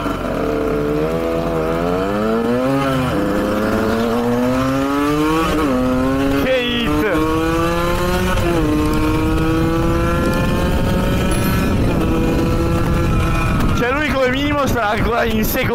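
A motorcycle engine revs up and shifts through several gears, its pitch climbing then dropping repeatedly, loud and close, with a voice talking over it.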